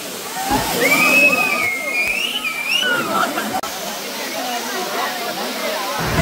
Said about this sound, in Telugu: పైన నుండి ఆ వాటర్ పడేవి చక్కనే పడుతుంది